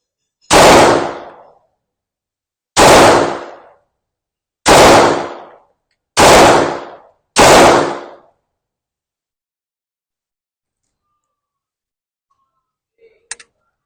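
A Springfield Armory XDS Mod.2 9mm pistol fires five loud, sharp shots at close range, spaced about one to two seconds apart, each with a short decaying echo, followed by silence and a faint click.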